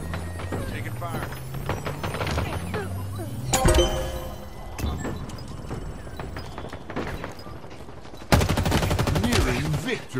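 Gunfire in the video game Halo Infinite during a Strongholds match, with bursts of shots and sharp cracks running through the clip amid game effects and brief voice callouts, growing louder near the end.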